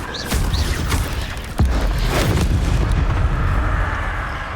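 The Incendio fire spell is cast in the video game Hogwarts Legacy, a continuous roaring, booming rush with a sharper burst partway through, loud and close.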